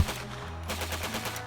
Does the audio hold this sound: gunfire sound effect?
yes